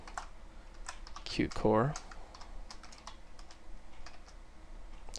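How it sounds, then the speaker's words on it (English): Rapid clicking of a computer keyboard configured for Call of Duty Black Ops, with fast, steady keystrokes running through the clip while someone speaks briefly near the start. "I've got my keyboard set up for Call of Duty Black Ops, so it's doing crazy things as I type"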